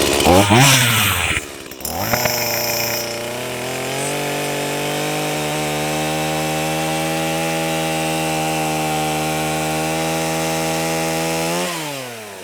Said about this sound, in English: let's just start out with the Stihl